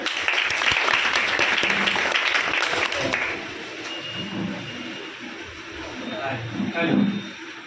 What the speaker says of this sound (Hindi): फिर मेरा दिल से ताली बजा दिया जाए